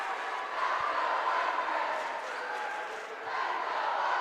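Spectators at a high school boys basketball game in a gymnasium roar and cheer, a loud sustained crowd swell that dips briefly and rises again, voices blending into a continuous din.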